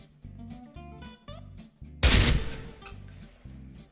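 A single loud M14 EBR rifle shot from the game Special Force 2 cracks out partway through, its burst trailing off over steady rhythmic background music.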